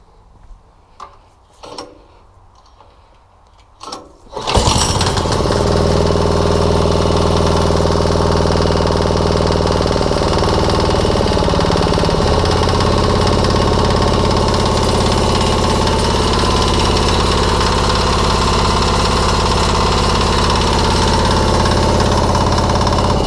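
A 168F 3hp small single-cylinder diesel engine is cranked with a few pulls, catches abruptly and then runs loud and steady at a close distance, its throttle eased back slightly partway through.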